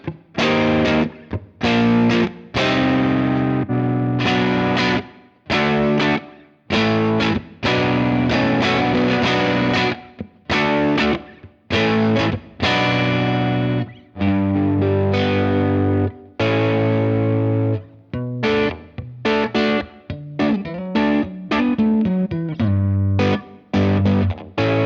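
Electric guitar run through a Fractal FM3 pitch-tracking synth effect gives thick, buzzy synthesized notes in choppy phrases with short gaps, loud and up front, tracking each played note cleanly for about twenty-five seconds.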